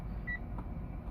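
A single short electronic rest-reminder beep sounds briefly over a low steady hum inside a Mitsubishi Outlander.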